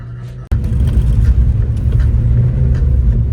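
A BMW E46 330ci roars at full throttle while drifting on snow, a steady loud low engine rumble from inside the car that starts abruptly after a brief sharp knock, with no talking.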